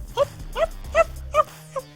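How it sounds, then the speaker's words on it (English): A dog gives five short, sharp barks at a steady pace, fairly close, over a low background hum with no talking. "that's our dog. I don't know if you can hear him in the background."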